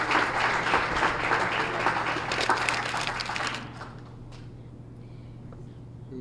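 Applause at a small business awards breakfast, a roomful of people clapping steadily for a few seconds before it dies away into quiet room noise with a low hum.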